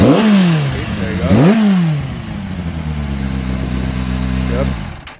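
A 2007 Kawasaki Ninja ZX6R sport bike, revived after sitting ten years, runs close and loud, with two sharp throttle blips climbing and falling before settling into a steady, even idle that cuts off at the end.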